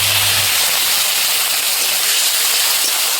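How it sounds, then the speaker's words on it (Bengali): A little water poured into a hot frying pan with curry leaves, garlic and green chillies sizzles into a steady, loud broadband hiss that fills the whole moment without pause. "দিয়ে দিলাম সামান্য একটু জল।"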